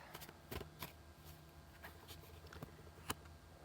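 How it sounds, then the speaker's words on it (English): Soft riffling and patting of a tarot deck being shuffled close up, quick papery flutters and taps repeating unevenly over a quiet background, one sharper snap near the end. "Okay, I am shuffling this, guys, and this is a great deck to shuffle"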